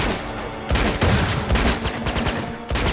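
Blind-fire gunfire in the shooter game Uncharted 2: Among Thieves, loud rapid bursts of automatic shots broken by short pauses, close and forceful.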